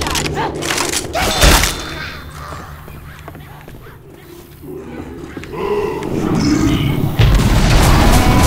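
Loud booming bomb explosions and heavy thuds in Left 4 Dead 2 during a campaign on The Parish, mixed with gunfire and game noise throughout, strongest near the start and again toward the end.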